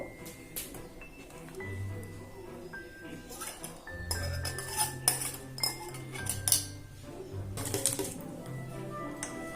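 A large nonstick pan is handled in a home kitchen while making cake, with close metallic clinks, knocks and scrapes of cookware and utensils, and a low voice at times under the clatter.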